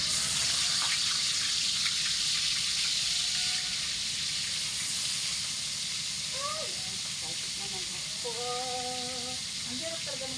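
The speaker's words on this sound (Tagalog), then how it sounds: "medyo iprito-prito natin ng konti ang baboy" Pork frying in a pan gives a steady, close hiss and sizzle that runs the whole time, while light clinks and a few faint voices or tones sit underneath.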